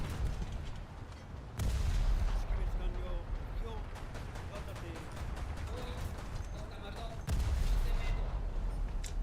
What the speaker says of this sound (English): I feel like I saw a direct hit of my cannon on that boat right now